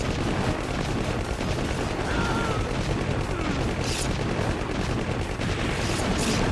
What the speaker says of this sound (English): So I'm gonna have to try to use my machine gun or whatever to beat him.